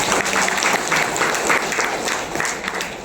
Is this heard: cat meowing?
no